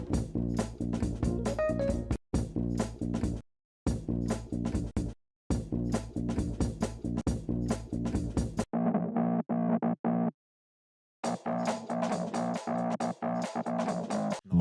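A sampled bass loop from a jazz record, meticulously cut, plays as a deep, repeating distorted groove with clean chops and brief silent gaps between segments, then a thinner filtered stretch before the full loop returns.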